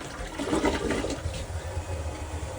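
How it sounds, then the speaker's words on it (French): Toilet in a home in Yoichi, Hokkaido, Japan, flushing with a loud rushing gush of water that settles into a steady refilling hiss, close by with no talk. "Et donc, je tire la chasse, l'eau sort."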